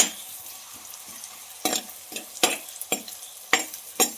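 Onions salted and sautéing in a pan for a curry sizzle softly and steadily, broken by several sharp spatula scrapes and stirring knocks spaced about half a second apart.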